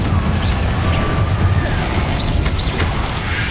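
Confringo explosive spell in Hogwarts Legacy combat: loud booming blasts and crashing impacts with rumbling debris, several bursts over a few seconds amid dense battle noise.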